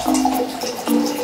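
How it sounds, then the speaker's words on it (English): Liquid pours into a glass for an Oreo dunking taste test, a short gurgling stream that runs, pauses briefly, then resumes, close and clear with no talking. "So we're gonna pour that in there."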